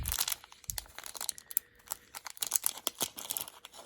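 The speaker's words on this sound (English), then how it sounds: "So let's just remove the tape, open this bag up." A taped plastic bag holding a Boss Fight Studio Spartan Warrior action figure is opened, giving sharp, close crinkles and brief tearing rustles in quick irregular bursts with short pauses between.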